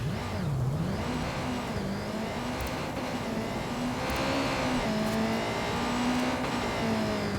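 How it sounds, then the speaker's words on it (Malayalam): In the video game Watch Dogs 2, a motorbike engine revs and whines, rising and falling in pitch over a steady drone, with no talk. "നമുക്ക് തൽക്കാലം ഈ ബൈക്കിൽ പോവാം."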